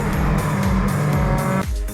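Race cars sweep through the Druids hairpin on the Brands Hatch Indy circuit, loud and close, engines droning and shifting pitch in quick succession before the sound drops away abruptly near the end.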